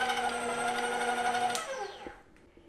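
An electric mixer whirs steadily while beating cookie dough for white chip chocolate cookies, a close mechanical hum with a high whine that winds down and stops near the end.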